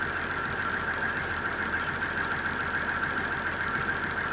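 An M35A2 truck's multifuel LDS engine with an HX40W turbo swap, fitted with a silencer ring, runs steadily near the mic, a continuous rumble topped by a sustained turbo whistle with no talking.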